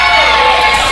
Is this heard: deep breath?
no